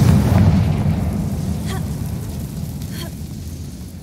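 A Confringo fire-blast spell goes off in Hogwarts Legacy as a deep, rumbling boom that opens loud and slowly fades, with a couple of faint high magical chimes ringing over the decaying low roar.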